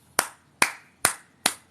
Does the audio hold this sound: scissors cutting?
no